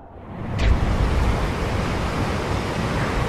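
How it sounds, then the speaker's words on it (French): Wind blows in a Minecraft short film scene, a steady broadband rush that swells after a soft start and then holds loud and even, with no voices over it. "Désolé pour le vent. C'était pas prévu."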